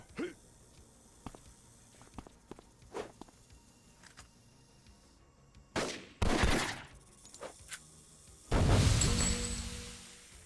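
Gunfire bursts in the City of Heroes video game: a couple of sharp loud volleys mid-clip and a heavier sustained blast near the end, with scattered clicks and light footstep-like taps between them.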